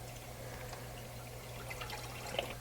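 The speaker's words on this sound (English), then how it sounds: "In a medium saucepan over high heat, we're going to place 2 cups of beef broth." Beef broth pours into a medium saucepan over high heat. A steady, soft liquid wash runs the whole time over a low background hum.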